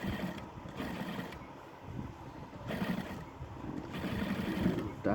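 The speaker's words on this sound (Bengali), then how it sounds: "আসলে একটা চাপ সেলাই দিয়ে দিলাম" A sewing machine stitches two parts of a garment together, its steady mechanical whir running in short bursts with brief pauses between them.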